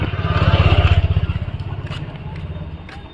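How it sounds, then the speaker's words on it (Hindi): Motorbike ridden slowly on a road, its low engine putter throbbing steadily up close, loudest at first and then easing off, with road scrape and light clatter around it. "ऐसे बाइक धीरे धीरे चलाएंगे"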